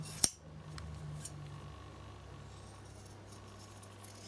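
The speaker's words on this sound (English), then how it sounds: "And then I just got my red felt for my backing. I'll just cut a piece." Scissors cutting a piece of red felt backing, a sharp snip at the start followed by faint quiet handling and a couple of soft clicks, close and low in level with no speech.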